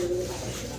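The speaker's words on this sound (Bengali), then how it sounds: "ডাক শুরু হয়ে গেছে, হ্যাঁ অস্থির।" Fancy pigeons, a matched pair kept for sale, coo in low repeated throaty calls close by, steady and continuous over a faint background hum.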